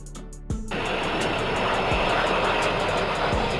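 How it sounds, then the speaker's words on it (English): Kawasaki XC-2 heavy military transport aircraft, a loud steady jet engine roar that sweeps in after a brief quieter start and holds through to the end, with no voices. "Kawasaki XC-2, a heavy military transport aircraft developed by Kawasaki Heavy Industries"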